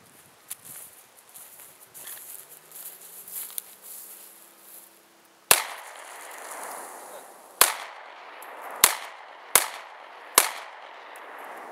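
Five sharp, loud gunshots crack at close range toward a shaken soda can, spaced irregularly after a stretch of quiet outdoor handling noise and faint rustles.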